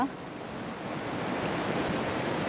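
Steady stream water flowing at the foot of a large mountain, a continuous broadband rush that stays fairly even and moderately loud throughout, with no talk over it.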